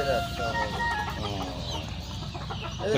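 Several free-roaming native village chickens cluck and chatter nearby in a busy, overlapping stream, with farmyard noise and occasional voices underneath.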